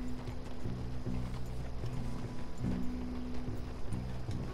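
Horse hooves clip-clop in a steady, close rhythm in the Red Dead Redemption 2 video game, a moderately loud trot running throughout with no talking over it.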